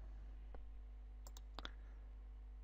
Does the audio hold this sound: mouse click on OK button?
yes